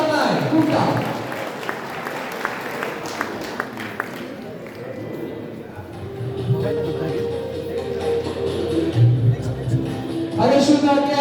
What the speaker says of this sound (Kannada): ಅವರಿಗೆ ನಾವೆಲ್ಲರೂ ಜೋರಾದ ಚಪ್ಪಾಳೆ